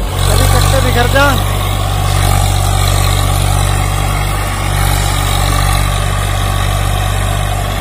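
A Swaraj 744 FE tractor engine runs at steady medium revs while pulling a trolley loaded with potato sacks, a loud continuous low rumble throughout with someone talking over it.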